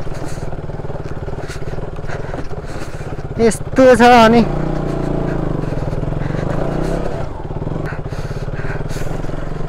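A scooter rides a very rough, broken road toward Dhap Dam, its engine droning steadily with bumps and rattles, a brief louder surge midway, while someone talks over it.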